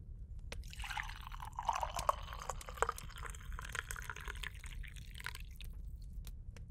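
Water trickles and drips steadily into a cup as it is poured for drinking, in a close, soft ASMR roleplay setting. Small splashes and drops continue throughout over a low background hiss.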